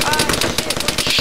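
Rapid automatic gunfire crackles in Arma 3, a burst of sharp, evenly spaced shots from a military shooter game, loud and close, packed into about a second.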